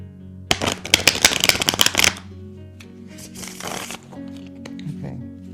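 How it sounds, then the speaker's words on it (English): Tarot cards being shuffled by hand, a close, rapid riffling burst of papery flutters followed by a second softer shuffle, with a voice speaking faintly in the background. "Let me just reshuffle the cards."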